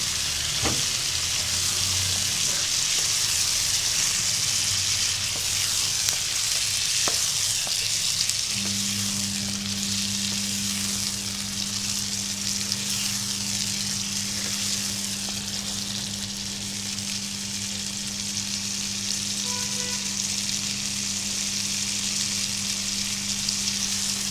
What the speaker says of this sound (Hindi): लहसुन अदरक का पाउडर और प्याज और हरी मिर्च का पेस्ट 1-2 मिनट इसको फ्राई करूँगी।